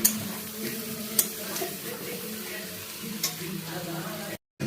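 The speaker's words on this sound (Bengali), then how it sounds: "এঁচড়টা দিয়ে ভালো করে কষে নিচ্ছি বন্ধুরা যাতে এঁচড়ের মধ্যেও সব মশলাগুলো ঢোকে" Boiled raw jackfruit sautéing in spiced oil in a pan for a prawn curry, a continuous low sizzle and bubbling with occasional spatula knocks against the pan, close up and without talk.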